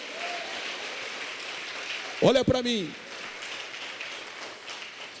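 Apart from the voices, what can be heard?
congregation applauding in church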